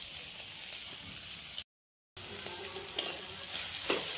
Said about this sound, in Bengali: তিতাকেৰেলাখিনি এইখিনি অলপ ভাজি লওঁ